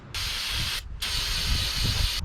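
Cleaner sprays onto old engine parts from a 1959 International B100 in two long, steady hissing bursts separated by a short gap, close and loud over a low background rumble.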